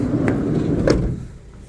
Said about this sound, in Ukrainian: закриваємо дверцята